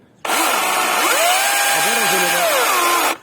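A DeWalt cordless power saw runs steadily and loud for about three seconds, its motor pitch shifting up and down as the soft-start trigger varies the speed, and it cuts off abruptly at the end.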